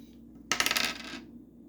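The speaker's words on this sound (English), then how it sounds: "let's go ahead and roll the dice for the next one." Dice are rolled onto a hard surface, a brief burst of quick rattling clatters that tapers off, alone in a quiet room.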